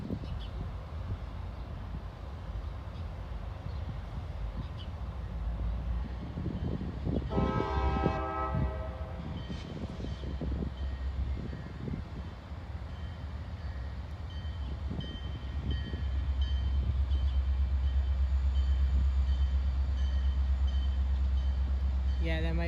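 A CSX freight train locomotive in a West Springfield rail yard sounds its horn in a short tonal blast, heard from a moderate distance over a steady low engine rumble that swells louder later, with people talking nearby.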